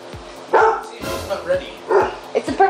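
A dog barks loudly in a few separate short yaps, close by, with people's voices mixed in around the barks.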